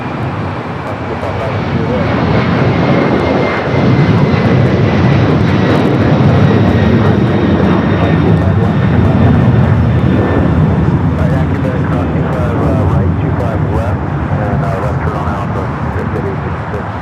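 A passenger jet bound for Lima, Peru roars steadily and loudly at Los Angeles airport. The engine noise is close and holds for the whole stretch, with a faint whine above the broad rumble.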